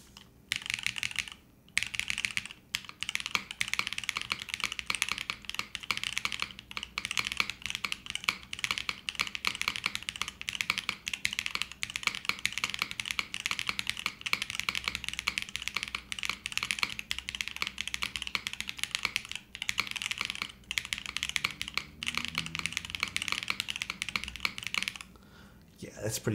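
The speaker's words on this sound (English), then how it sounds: "Yeah, that is actually really nice. Sounds like a Razer keyboard." Continuous typing on a Chimera65 R2 mechanical keyboard, rapid clacky keystrokes close up for the whole stretch with short pauses, a few louder spacebar thocks, no talk over it.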